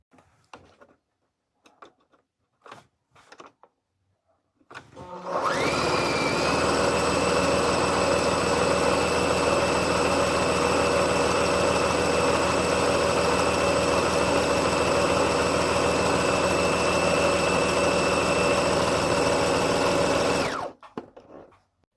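Brother ST371HD sewing machine running steadily through a decorative stitch, a loud continuous whirring hum with a faint mechanical rhythm lasting about fifteen seconds, preceded by a few light handling taps and ending abruptly.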